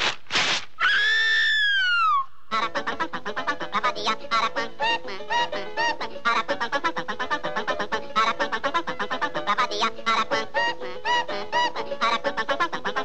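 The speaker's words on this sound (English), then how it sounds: "he's called the Aracuan because of the peculiar song he sings" A cartoonish Aracuan bird call with a rising whistle, then a long run of rapid, chattering, clucking notes, loud and alone.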